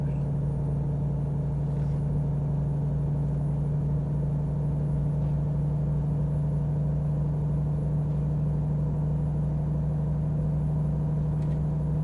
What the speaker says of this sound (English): It's a little bit noisy because we've got a small engine and a very bad transmission.